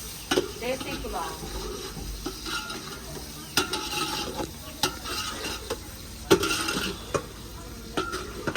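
Spices fry and are stirred in a pot for desi pulao, with a soft sizzle under repeated metal scrapes and clinks of a spoon against the pot, close and intermittent, while someone talks.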